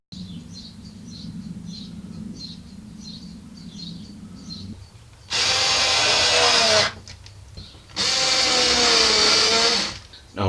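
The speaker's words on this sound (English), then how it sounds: "so I just need to screw it together." A power drill drives screws into a wooden leg section for a worktop, running in two sustained loud bursts with a short pause between them, after a quieter stretch of background noise.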